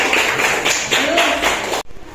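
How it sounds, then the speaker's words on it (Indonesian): A classroom of children clapping for a student group, a dense burst of hand claps with rhythmic pulses that stops abruptly near the end. "tepuk tangan untuk kelompok 2"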